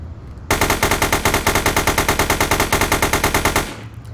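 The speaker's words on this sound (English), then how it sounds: "I'm shooting at them and they decided to turn around" Sustained automatic gunfire in a video game, a loud rapid burst of about thirty evenly spaced shots running for roughly three seconds before stopping abruptly, with no talking over it.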